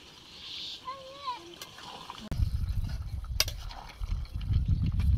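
Hot water is poured into a pot of village-style cock chicken curry, a rough splashing and bubbling wash that starts suddenly and continues to the end, with a voice speaking over the earlier part.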